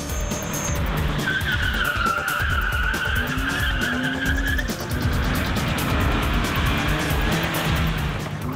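A drift car's tires squeal and skid through a J-turn at a drift school, with the engine roaring steadily throughout, loud and close, the squeal rising and wavering over several seconds.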